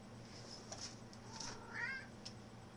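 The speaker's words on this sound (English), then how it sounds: "There's a cat behind me." A cat meows a few times at moderate distance, faint over a low steady hum in an otherwise quiet room.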